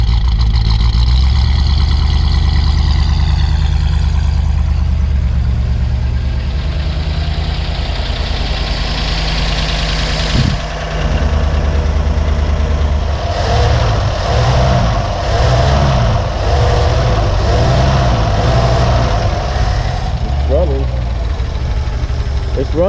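A 1959 Ford Galaxie engine running after more than ten years unused, idling loud and close with a rough, uneven rumble and knock that surges as the throttle is worked, with voices over it.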